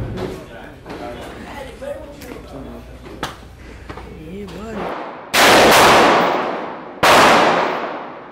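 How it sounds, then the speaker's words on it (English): Gunshots at an outdoor shooting outing, two loud sharp blasts with long ringing decay that follow casual talking and a few lighter knocks. "We're going shooting with Dre and Mariana."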